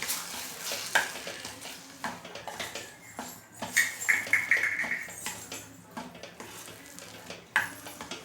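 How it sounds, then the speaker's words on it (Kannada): Raw mango gulumba ingredients frying in a pan over a low flame, with a steady sizzle and repeated scraping stirs of a spatula against the pan, close and moderately loud, with no talking. "ಇದನ್ನು ಎಲ್ಲ ಫ್ರೈ ಮಾಡ್ಕೊತೀವಿ ನೋಡಿ"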